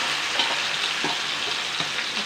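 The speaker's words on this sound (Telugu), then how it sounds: "మీడియం ఫ్లేమ్లో పెట్టేసి ఒక 15 మినిట్స్ ఫ్రై చేసుకున్నాము." Chicken pieces frying in oil over a medium flame, an even, dense crackling sizzle close by with soft stirring knocks at intervals.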